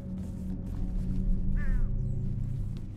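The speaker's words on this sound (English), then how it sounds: "There's a bird somewhere." A crow-like bird caws once, briefly and at a distance, in the video game Condemned: Criminal Origins, over a steady low ambient hum.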